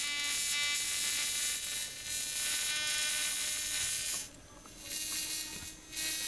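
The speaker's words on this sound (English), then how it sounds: "the rotor goes berserk when I do this. It speeds up incredibly, and the plasma increases as well" The rotor of a Lidmotor Joulini corona motor spins faster amid plasma discharge, giving a steady high electric buzz with a ratcheting edge that dips briefly and surges back, close and with no talking.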